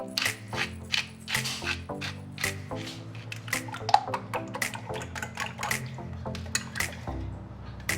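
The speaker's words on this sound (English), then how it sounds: "Into another mixing bowl, break in eggs." Eggs are whisked in a mixing bowl, four eggs seasoned with salt and pepper, giving rapid irregular clinks of the whisk against the bowl and wet sloshing taps, close and fairly loud, with no talk.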